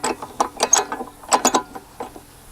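A RotoPax mount handle on a TrailRax rack is twisted by hand, giving a series of close, crisp ratcheting clicks in short uneven bursts with brief pauses between.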